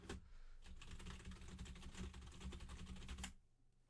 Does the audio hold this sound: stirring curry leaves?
no